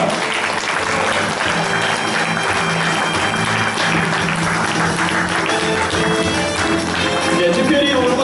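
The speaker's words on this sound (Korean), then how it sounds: "여러분 축하의 박수 부탁드리겠습니다" Sustained applause from a crowd fills the room, steady and loud throughout, with some background music underneath.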